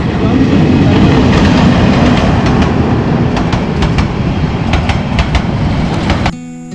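The Jamalpur Express on the Dhaka–Mymensingh line runs through a station without stopping, producing a loud, sustained rumble with repeated wheel clatter that cuts off abruptly near the end.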